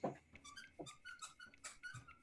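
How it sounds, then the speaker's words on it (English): A dog lets out a string of faint, high squeaks and whimpers in the background, several short thin cries spread across a quiet room. "What are you squeaking? Oh, that's doggy. That's my dog."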